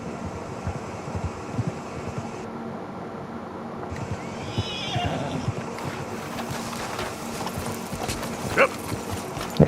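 Horse whinnying and approaching at a gallop after being called in the video game Red Dead Redemption 2, a short neigh and clip-clop of hooves over steady game ambience and music.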